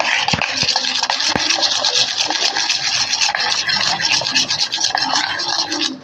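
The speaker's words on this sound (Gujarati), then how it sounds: "આપણે હલાવી નાખશું આપણે મિક્સ કરી નાખીએ બધી દૂધમાં" Biscuit cake mixture being stirred into milk, continuous close scraping and swishing with a few sharp knocks against the container, no voices.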